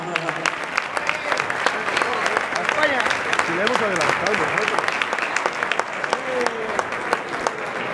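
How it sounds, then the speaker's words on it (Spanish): Lively audience clapping at the awards ceremony of a trail race, the V Ruta del Nískalo, with a crowd applauding steadily while voices and chatter run underneath throughout. "un aplauso para Marta."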